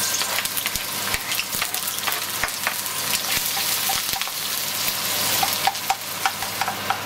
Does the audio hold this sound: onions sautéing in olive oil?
yes